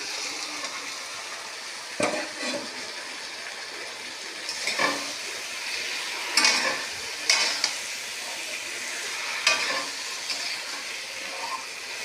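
Meat with its oil is poured into a hot pan with spices and potatoes and fries with a steady sizzle, broken by a few louder bursts of stirring and scraping.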